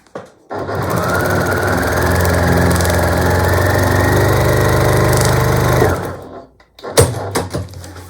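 A sewing machine stitches quilt strips in one loud, continuous whirring run of about five seconds, then stops, followed by a few brief handling clicks and rustles.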